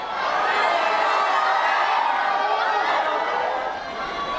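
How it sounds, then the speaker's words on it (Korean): Hundreds of fans crowded in an airport arrivals hall raise a continuous roar of cheering and excited shouting as the doors open, a dense, sustained crowd din without pauses. "공항 입국장에 문이 열리자 수백 명 팬들의 환호성이 터져나옵니다"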